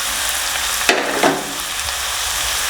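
Two green chillies sizzle in a pan of oil while crab curry is being made. A steady loud frying hiss runs throughout, with a couple of sharp stirring scrapes near the middle.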